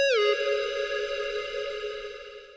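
A sine oscillator pushed through distortion and overdrive, then reverb, OTT compression and Valhalla Shimmer, rings out as a single bright, harmonically rich sustained tone with a brief pitch drop at the onset, slowly fading over a few seconds.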